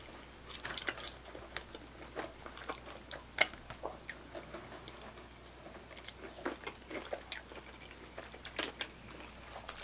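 Crunchy Indian flatbread being chewed at an Indian fusion restaurant, close and fairly quiet, with a steady run of crisp bites and crunches spread through the whole stretch, no talking.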